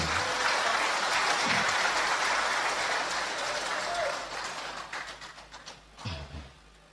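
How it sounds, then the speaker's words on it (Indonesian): Applause from a crowd at a village officials' ID and uniform launch event fills the room steadily and loud, then thins into scattered claps and fades. Some voices are heard near the end. "Kasih tepuk tangan Pak Bupati."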